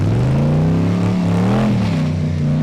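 An off-road top truck engine revs hard while the vehicle churns through mud at a wings-and-wheels show, a loud, close, sustained roar with the pitch rising and falling and no speech.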